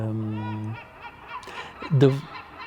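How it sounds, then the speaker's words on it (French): Birds calling nearby with a honking, cackling quality that sounds almost like laughter, a long held note then a louder burst of chatter. "vous entendez les oiseaux qui rient, semblent rire"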